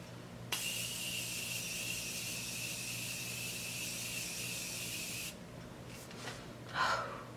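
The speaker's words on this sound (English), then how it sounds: "Lastly, I'm gonna use my Morphe Continuous Setting Spray." Morphe Continuous Setting Spray hisses out in one long, even mist burst of about five seconds, close and fairly loud, then stops and is followed by a soft breath.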